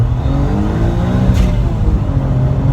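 Spoon-tuned Honda S660 kei car with a three-cylinder engine accelerating hard in first gear from a toll gate, loud rising revs heard close from inside, with steadily climbing engine harmonics.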